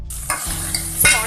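Bottle gourd, carrot, okra, green chili, coriander and curry leaves for sambar sauteing in a hot pan, a steady loud sizzle with two quick scraping stirs, close up and with no voices.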